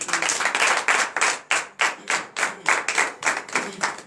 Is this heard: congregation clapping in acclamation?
yes